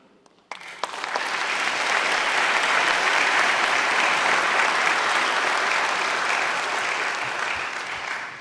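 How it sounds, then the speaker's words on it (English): An audience at a college athletic hall of fame induction ceremony bursts into sustained, full applause after a brief quiet moment, clapping steadily and loudly throughout a hall before tapering slightly at the end. "we were supposed to applaud there at this time"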